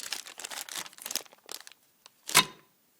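Close-up crinkling and rustling of a plastic bag holding bolts and nuts for a Buick Century ball joint, in irregular bursts, then a short pause and one sharp final crackle.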